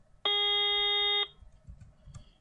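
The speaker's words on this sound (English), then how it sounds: "The original tone with the high frequency sounded like this." A synthetic test tone layered with added high-frequency noise plays as one loud, steady burst of about a second, rich in stacked harmonics, then stops sharply, leaving quiet background noise and a faint click.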